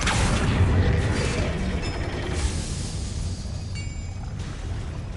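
Confringo fire spell blasting in the Hogwarts Legacy video game, a sustained loud rumbling boom with crackling debris that fades slightly over several seconds, with no talking.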